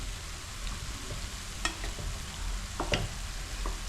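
Tomato pieces frying in oil for a chutney, a low continuous sizzle with a few sharper stirring scrapes and pops, close and fairly quiet, with no talking.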